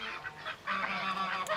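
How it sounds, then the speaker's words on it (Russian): Drakes quacking quietly at an open-air farm park in Belarus, a few soft nasal honking calls close by, rising and falling over about a second and a half. "Селезни крякают тихонечко"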